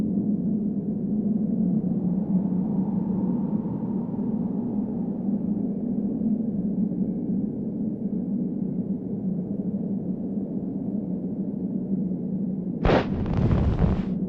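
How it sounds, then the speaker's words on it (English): A low, steady rumble fills a scene in the adventure game Secret Files: Tunguska, then one loud, sudden blast near the end sets off a small avalanche in snowy terrain. "Wow, what an explosion! It appears that it even triggered a small avalanche"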